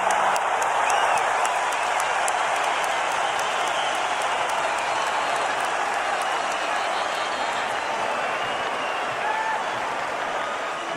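Arena crowd of about 12,500 at a boxing match between Miguel Cotto and Antonio Margarito applauding after a round: broad, steady roar of clapping and crowd noise, loud and continuous, with commentary voices faintly beneath.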